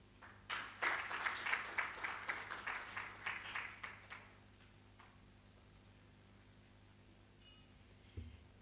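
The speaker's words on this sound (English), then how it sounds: "Another hand clap for him." An audience claps together after a talk at a seminar on UK market access for horticulture and sesame exporters. The applause is steady and dense for about four seconds, then fades to quiet room tone, with a faint thump near the end.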